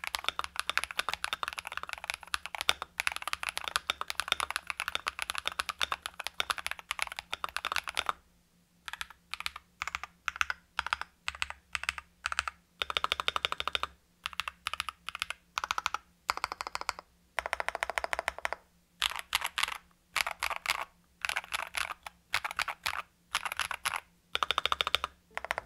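Fast typing on an Epomaker RT100 mechanical keyboard fitted with replacement keycaps, dense runs of clacking keystrokes broken by short pauses, close and clear with a faint steady hum underneath.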